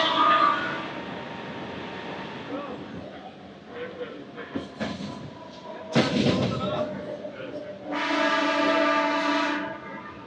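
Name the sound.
DEMU express train running past a station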